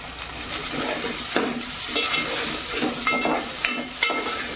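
Garlic, ginger and onion fry in a hot pan, making a loud, steady hiss and sizzle with repeated scrapes and knocks of a spatula as the mix is stirred.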